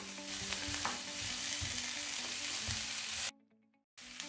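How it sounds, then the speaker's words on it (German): Bell peppers sauté in a pan for tacos, a loud, close, continuous sizzle and hiss with faint stirring, cutting out briefly near the end before resuming; no talk. "Und die lasse ich jetzt erstmal hier so richtig andünsten, so ein bisschen, dass die so leicht braten."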